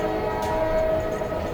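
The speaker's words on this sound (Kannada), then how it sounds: "ಅವನು ಚಟ್ಟಾನ್ ಸಿಂಗ್ ಟ್ರೈನ್ ನಿಲ್ಲಿಸಲು ನೋಡ್ತಿದ್ದಾನೆ." A train runs on a railway in a dramatic TV serial scene, heard as a short, steady tonal drone like a horn over a low rumble.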